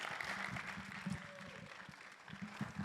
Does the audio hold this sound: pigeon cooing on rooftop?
no